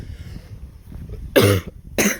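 Two harsh, close coughs from someone ill with a cold, a longer burst followed by a short one after a pause, over faint background noise.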